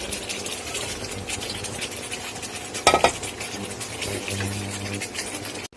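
Chicken pieces are stirred into a pan of milk and spices for Afghani malai chicken, giving a steady low sizzle with scraping spoon strokes and a sharp clang of metal near the middle.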